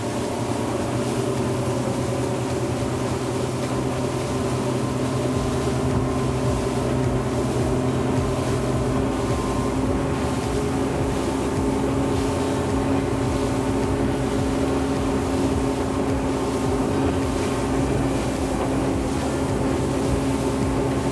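A Reef Runner 23 small high-end boat running at about 5,000 RPM, a steady loud outboard engine drone with constant water and wind rush throughout.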